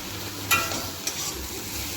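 Taro stolons and a fish head sizzle in a hot wok, a steady close frying hiss broken by a couple of brief clinks.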